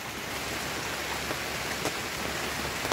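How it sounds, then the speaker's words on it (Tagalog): Heavy rain pours down steadily, a dense, even hiss with scattered nearby drops spattering on surfaces, unbroken for the whole stretch. "Lakas ng ulan dito sa amin."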